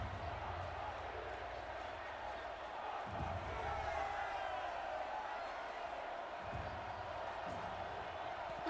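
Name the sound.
crowd cheering in the video game Horizon Zero Dawn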